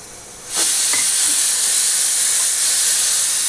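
A pressure cooker suddenly lets off a loud, close, continuous hiss of steam that keeps going steadily to the end, with no voices.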